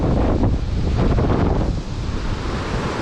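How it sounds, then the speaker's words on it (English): Loud, blustery wind roars across the microphone at the mouth of 16 Mile Creek near Erie, Pennsylvania, with surf washing underneath, heavy rumbling gusts easing slightly toward the end, and no one speaking. "Wind's really whipping."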